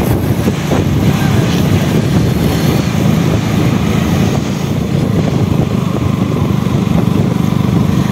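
A motorbike rides along a countryside road, its engine a constant low drone heard close up with steady wind buffeting over the microphone.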